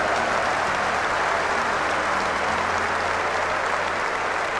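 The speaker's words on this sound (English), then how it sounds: "Give her a round of applause" A large audience at a motivational talk applauds in a sustained, thick roar of clapping that holds steady at full strength from start to finish, close and without speech.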